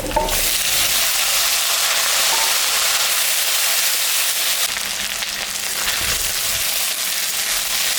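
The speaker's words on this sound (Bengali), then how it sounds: "পেঁয়াজটা ভাজা ভাজা হয়ে গেছে, এখন আমি আলু আর 2-1টা কচুর বই দিয়েছি" Onions, potatoes and a couple of taro pieces fry in a pan, making a loud, close, unbroken sizzle with faint stirring throughout.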